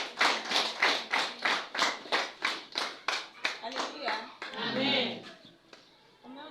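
A congregation at a Wednesday church service claps in steady unison, about a dozen crisp rhythmic beats, before the clapping breaks off into voices and scattered sounds.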